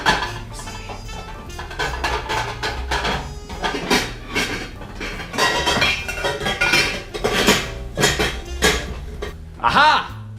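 Pots and pans rummaged in a kitchen while hunting for a small sauce pot, with repeated clanks, clinks and knocks of metal cookware, near and busy throughout, with a voice speaking briefly over the noise.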